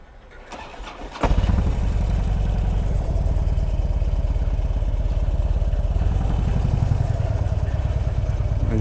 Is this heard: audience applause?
no